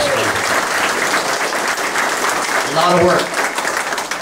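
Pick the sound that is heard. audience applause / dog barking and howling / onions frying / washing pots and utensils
audience applause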